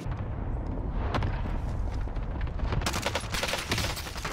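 Krig 6 assault rifle fire in the Warzone video game, sustained rapid bursts layered with heavy booms and explosive rumble, loud and continuous throughout.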